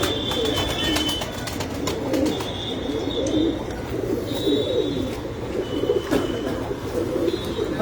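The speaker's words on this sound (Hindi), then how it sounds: "ये जी F16 करके कबूतर है मेरा।" Domestic rooftop pigeons coo in soft repeated rolling calls against a busy background of ambient noise and occasional higher chirps.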